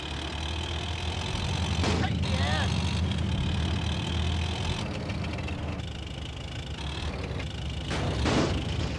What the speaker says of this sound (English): Oh, I got someone in a tractor pursuing me.